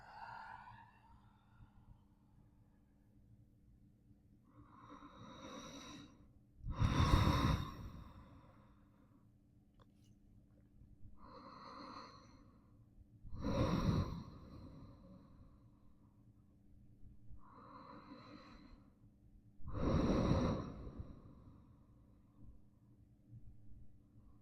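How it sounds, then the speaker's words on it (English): Slow, deep breaths during a yoga flow, with three loud, drawn-out exhales spaced several seconds apart and softer inhales between them, close and quiet in a calm room. "Taking a deep breath in and exhale, fold."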